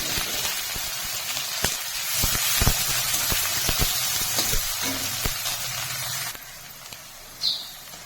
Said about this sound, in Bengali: কড়াইয়ে সরষার তেল দিয়ে দিয়ে দিচ্ছি পেঁয়াজ কুচি